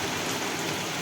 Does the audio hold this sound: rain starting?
yes